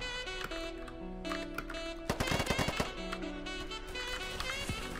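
AK-47 fire in the video game Polygon crackles in rapid automatic bursts, dense and sharp, over a steady background of game music and ambience.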